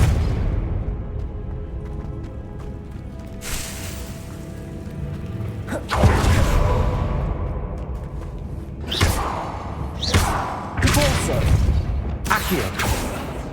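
Spell blasts from Confringo and Repulsor in Hogwarts Legacy: a rumbling backdrop broken by several loud, sharp booming bursts in quick succession, the later ones clustered close together.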